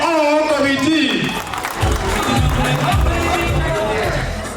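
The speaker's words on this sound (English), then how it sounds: "give a round of applause to the all committee" Audience applause breaks out at a convention gathering for a development association's committee, clapping mixed with crowd chatter and a voice speaking over it, fairly loud and close.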